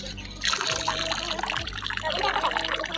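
Water poured as an offering to the sun at the Narmada river, a steady trickling splash running through the clip under a continuous outdoor background.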